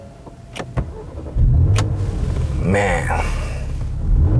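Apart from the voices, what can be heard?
2015 Porsche Macan S engine starting up and revving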